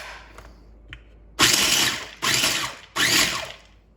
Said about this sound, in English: I'm going to go ahead and give that a little pulse before I add the basil leaves, just to start grinding it up.